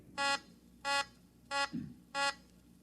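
A beeper plate used to check credit notes in a radio drama sounds four evenly spaced electronic buzzing beeps, with a soft low thump between the third and fourth, alone and fairly clear.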